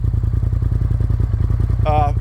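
A Polaris RZR XP Pro UTV's engine idling steadily and low throughout with a regular throbbing pulse, joined near the end by a brief higher-pitched whine.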